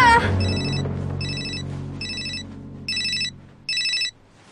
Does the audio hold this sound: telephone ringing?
yes